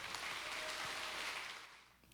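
Church congregation applauding for Pastor Jetro at a morning service in Osasco, a steady broadband clatter of many hands that holds evenly before tapering off toward the end.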